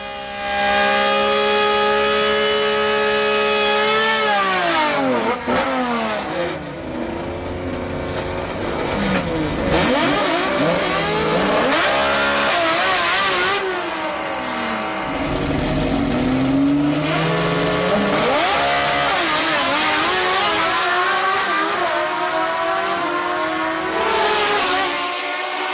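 Old naturally aspirated cars drag racing at Sendai Highland, engines revving hard with rising and falling tones through gear changes, loud and continuous throughout with several cars overlapping.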